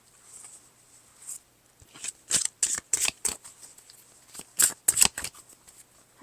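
Tarot cards are shuffled in quick papery bursts, a few soft riffles followed by a cluster of sharp, close flicks and snaps, with no talking over them.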